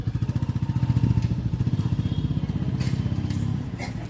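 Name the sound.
Royal Enfield Bullet motorcycle riding off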